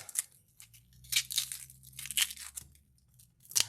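Papery tearing and crinkling as the dry outer skin is peeled off a halved onion by hand, in several close, quick bursts over a low background hum.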